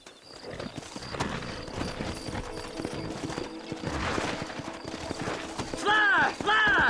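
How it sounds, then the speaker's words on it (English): Horse hooves clip-clop in Red Dead Redemption, steady and fairly close, mixed with game sounds and talking voices, with a louder burst near the end. "Horses are over here."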